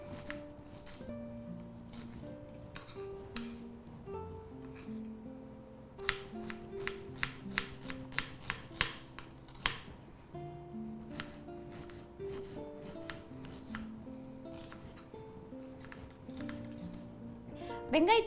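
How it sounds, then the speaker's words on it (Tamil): Onions are chopped finely with a kitchen knife while someone speaks, with a quick burst of crisp, rhythmic knife taps in the middle and scattered cuts elsewhere. "பொடியாக நறுக்கி எடுத்துக்கலாம் வெங்காயத்தை."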